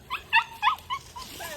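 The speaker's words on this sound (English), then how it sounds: "Get that dog. Get that dog." A dog near water gives several short yips and whimpering barks in quick succession, fairly close and clear over a quiet outdoor background.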